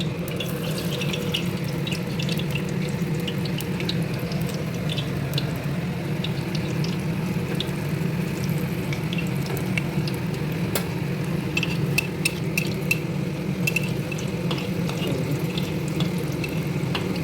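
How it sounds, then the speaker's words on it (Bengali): Battered pumpkin flower fritters deep-fry in hot oil, giving a steady, close bubbling sizzle with scattered sharp crackles and pops. "এবার আমি এটা তেলের পরে ছেড়ে দিচ্ছি"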